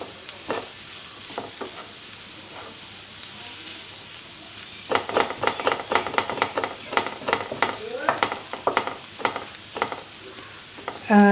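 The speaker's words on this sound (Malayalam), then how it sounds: "ഞാൻ ബീഫും മസാലയും കൂടി നമുക്കൊന്ന് നന്നായിട്ടൊന്ന് മിക്സ് ചെയ്തെടുക്കാം" Beef and masala stirred together in a pan while preparing beef cutlets, giving a close, steady scraping and sizzling with frequent spoon knocks against the pan.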